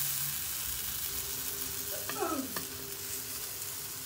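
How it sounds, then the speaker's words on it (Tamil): Watermelon pieces fry on a hot tawa, a steady sizzle running the whole time, with a brief clatter and scrape midway as the pieces are placed. "இப்போ நம்ம இதை தவாவில் ஃப்ரை பண்ண ஆரம்பிக்கலாம்."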